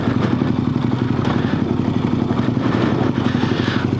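Fully loaded adventure motorcycle with panniers on Heidenau K60 Scout tyres, descending a hillside. A steady, close engine thrum runs throughout with faint clattering over rough ground.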